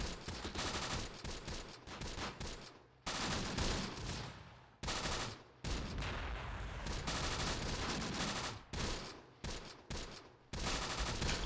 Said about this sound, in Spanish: menudo disparo. Y este sí que creo que ha sido de nuestro vehículo, que viene armado con este cañón